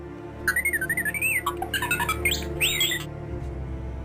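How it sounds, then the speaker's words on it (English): R2-D2, the Star Wars robot, chirps and warbles in a quick run of electronic whistles and squeaks, close and alone over a low hum. "This is the sound that R2-D2 makes."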